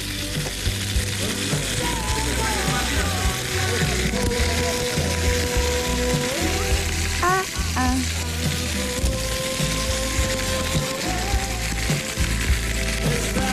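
Chicken sizzles and fries in a pan on a stovetop burner, a steady crackle running throughout with clinks of utensils and cookware stirring over it.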